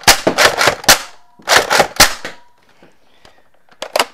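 A Zuru Longshot toy blaster fires weak squib shots: clusters of sharp, close cracking pops in quick succession, a quieter pause, then another short pair of pops.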